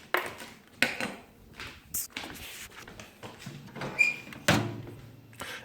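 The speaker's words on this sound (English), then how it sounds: "you can just pop these in the toaster oven" A toaster oven door clunks open and bread is set inside, giving a string of close knocks, a metallic clatter and a sharp thunk, with no talking.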